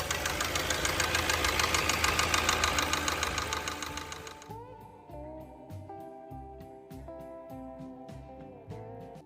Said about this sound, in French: Le tout nouveau Chevy Traverse 2026 est arrivé avec moins de 1000 km et faisait déjà un bruit de cognement